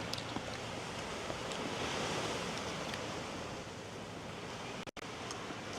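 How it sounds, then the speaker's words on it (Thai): Steady broadband wash of sea waves breaking on the beach at Hat Samae San at night, continuous and fairly soft with faint wind, with a very brief dropout near the end. "คืนนี้เราก็จะนอนแล้วก็ฟังเสียงคลื่นกัน ไป"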